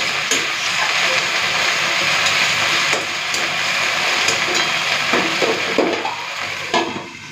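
Leafy greens (saag) fry in a covered pan, making a loud, continuous sizzle and hiss with occasional light knocks and stirring scrapes, fading slightly near the end.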